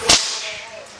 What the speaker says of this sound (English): When the end of a long line drops, it can break the sound barrier when it straightens out.